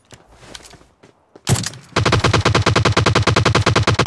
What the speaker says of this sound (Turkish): Bota sıkıyor.